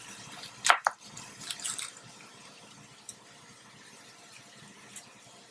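A knife slices the top end off an onion in a home kitchen: a couple of brief, crisp cuts close by near the start, followed by near silence with faint room noise.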